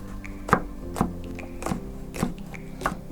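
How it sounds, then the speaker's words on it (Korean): A knife mincing Cheongyang chili peppers on a cutting board, close, evenly spaced knocks about every half second, around six strokes in a steady rhythm. "쪽파 좀 다져서 넣고요. 청양고추도 잘 다져서"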